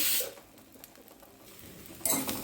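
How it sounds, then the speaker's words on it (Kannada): Cumin seeds and a handful of black peppercorns drop into a pan for a village-style tambuli, giving two short, crisp rattling sizzles, one at the start and another near the end, with quiet kitchen noise between. "ಒಂದು ಅರ್ಧ ಚಮಚ ಆಗೋಷ್ಟು ಜೀರಿಗೆ ಒಂದು ಹದಿನೈದು ಇಪ್ಪತ್ತು ಕಾಳು ಮೆಣಸು ಹಾಕ್ತಾಯಿದ್ದೀನಿ"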